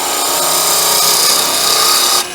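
A wood lathe takes a steady cut on a small wooden Christmas tree ornament, giving a continuous loud rasping, hissing scrape that holds evenly and then drops off abruptly near the end, with no talk.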